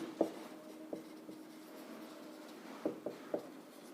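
Chalk or marker writing on a board during a chemistry lesson, with faint scratching strokes and a few sharp taps, quiet and close, without speech.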